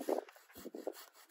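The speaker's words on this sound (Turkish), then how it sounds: "Oraya bir testere atacağım şimdi şuraya." A hand saw cuts a branch while a young Fernor walnut orchard tree is pruned for its first time. A few faint, uneven rasping strokes of the blade are heard close by.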